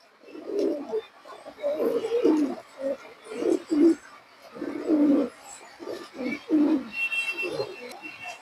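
A pair of Bezi breed pigeons coos in repeated low, throaty phrases close by, with the calls coming in bursts across the whole stretch and no talking over them.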